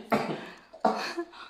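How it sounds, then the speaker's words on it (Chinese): A man with a cough lasting over a month, suspected whooping cough, coughs twice in quick, harsh bursts, close and alone with no talk. "每天定时咳嗽"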